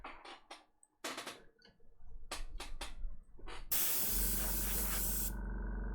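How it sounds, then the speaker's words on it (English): An airbrush hisses as it sprays paint over a spare UPS bag, at first in several short bursts and then in one steady, loud continuous spray close by. "We have our airbrush."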